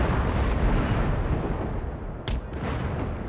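Booming cannon fire from warships during a naval battle in the video game Empire: Total War, a dense continuous barrage of heavy blasts rumbling together, with one sharper burst standing out near the end.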